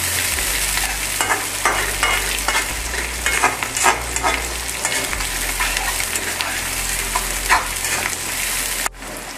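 Onions hiss and crackle in hot oil while a spatula repeatedly scrapes and stirs the pan, a steady close sizzle without talk.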